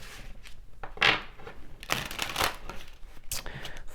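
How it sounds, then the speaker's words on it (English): Tarot cards shuffled by hand in a steady run of crisp riffling and soft slapping bursts, fairly close and with no talking over them. "So let's do some shuffling."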